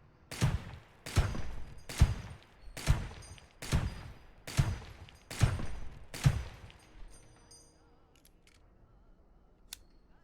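A gun firing in the video game Receiver 2, seven sharp, loud shots at roughly even spacing of under a second, each ringing out briefly before the next, then quiet with a faint click near the end.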